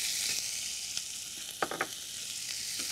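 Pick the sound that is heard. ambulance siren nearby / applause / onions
onions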